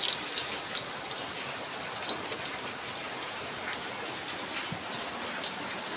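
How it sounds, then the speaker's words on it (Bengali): Heavy rain pours steadily outside a village house in Bangladesh, a dense, continuous hiss of drops with scattered nearby splashes and drips, no voices heard. "বাহির অনেক বৃষ্টি"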